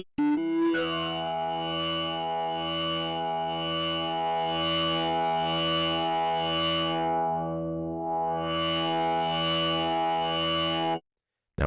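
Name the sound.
flame distortion effect on Omnisphere 2 synth layer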